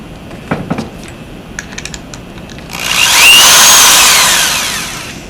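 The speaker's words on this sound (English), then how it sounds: "You want to drill a hole?" A power drill starts up after a few light clicks and taps, then whirs loudly and steadily for a couple of seconds before winding down, fairly close by.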